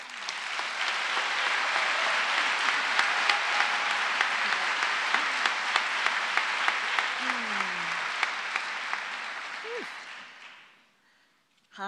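An audience at the 2014 Naropa University commencement applauds steadily for about ten seconds to welcome a faculty speaker. The clapping is full and even, then fades out near the end.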